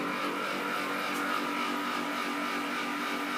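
A noisy Tadiran air conditioner runs steadily and loudly nearby, a continuous broadband whoosh with a faint tonal hum, holding even throughout with no talk.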